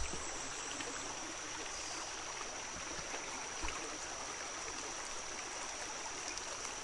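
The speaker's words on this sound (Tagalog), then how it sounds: "Dito tayo dadaan sa may sapa." A mountain stream flows in a steady, broad wash of running water, close and continuous for the whole stretch, with no voices over it.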